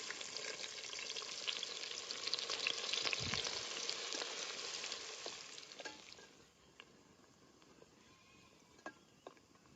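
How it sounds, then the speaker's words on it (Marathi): Chopped onion frying in a pan of oil with whole spices such as cinnamon stick, with a loud, steady sizzle for about six seconds that then settles into a quieter crackle with a few pops. "कांदा चिरून घेतलेला आधी टाकून घेणार आहे"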